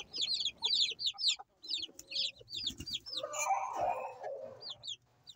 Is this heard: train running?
no